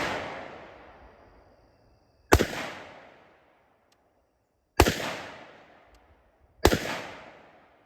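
Three sharp, loud pistol shots fired at targets on an outdoor range, widely spaced, each a hard crack trailing into a long decaying echo.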